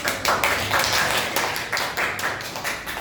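Students in a microteaching economics class give a short round of applause, a brisk patter of irregular hand claps lasting a few seconds.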